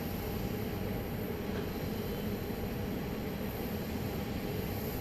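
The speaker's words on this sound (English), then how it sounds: "This is a 20th century aircraft." A 20th-century airliner at Dallas Love Field, heard as a steady, distant broadband jet roar with a faint high whine, unbroken and without voices.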